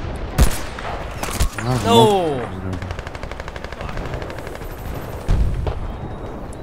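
Gunfire in the video game Battlefield Bad Company 2: a sharp shot, then bursts of rapid automatic fire and a later heavy blast, with someone shouting briefly over the noise.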